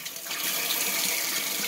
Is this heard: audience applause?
no